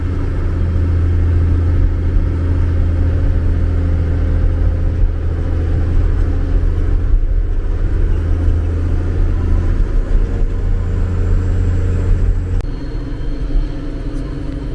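A 4x4 engine rumbles steadily and close while driving an off-road mountain track near a ravine, a low, continuous drone with mild rises in revs and a slight change in tone near the end.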